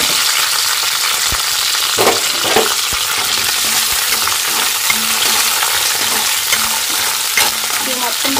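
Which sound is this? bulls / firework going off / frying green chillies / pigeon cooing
frying green chillies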